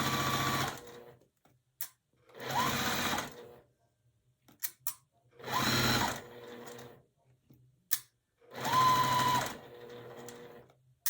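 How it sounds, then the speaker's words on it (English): A sewing machine stitches quilt fabric for a Tula Pink butterfly quilt in four steady, slow bursts of whirring, separated by quiet pauses with a few short clicks. "So now I'm sewing"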